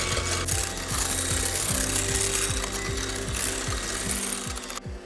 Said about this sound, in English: We're gonna mix this up until soft peaks.